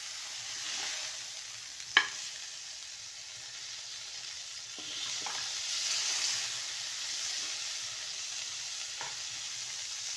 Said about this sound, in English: Now I will grease the pan with butter.